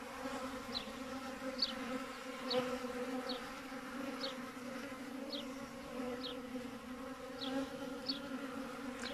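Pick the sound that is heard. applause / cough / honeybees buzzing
honeybees buzzing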